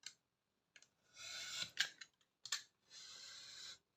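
Scissors snipping through paper card while trimming the sides of a pop-up box card, close and quiet: several short crisp cuts and longer rasping strokes, separated by brief silences.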